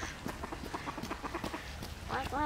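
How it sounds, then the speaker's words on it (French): Agitated ducks on a pond in Lille on a morning, quacking in quick irregular bursts at moderate distance, with a louder cluster of harsh calls near the end over faint outdoor background. "Et les canards sont très agités ce matin."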